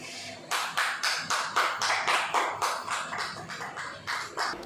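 A church congregation applauds the pastor's arrival at a prayer service in rhythmic, evenly spaced bursts of clapping, about a dozen pulses at a moderate, somewhat distant level.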